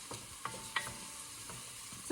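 Garlic cooking gently in oil in a pan, a soft steady sizzle with a few light clinks and scrapes of stirring, fairly faint and close with no talking.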